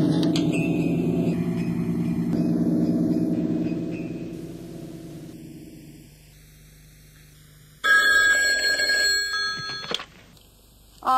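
An old-style telephone bell rings loudly in repeated bursts, then stops after a few seconds. After a quiet pause comes a brief clatter, as if the receiver is being picked up.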